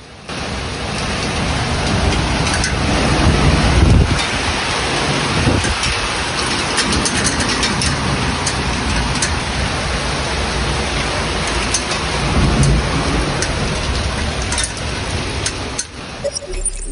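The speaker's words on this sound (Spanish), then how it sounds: "Otra intensa granizada se registró sobre Avenida Revolución." An intense hailstorm pounds Avenida Revolución in Mexico City, a loud, dense, unbroken roar of rain and hail with low thunder swelling beneath it, heard from a building nearby.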